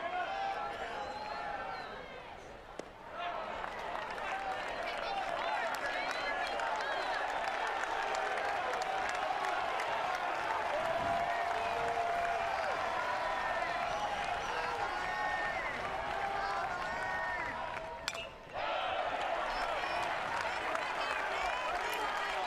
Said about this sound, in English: Crowd's really into it now.